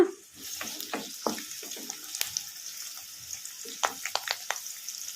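Onions frying in oil with curry leaves, hotel-style sherva in preparation: a steady sizzle runs throughout, punctuated by sharp clinks and scrapes of stirring, fairly close with no talking.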